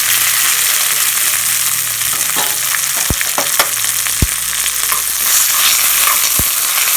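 Mustard seeds and cumin sizzle in hot oil for a sambar tempering, a loud continuous frying hiss broken by a few sharp pops and crackles, with no voices.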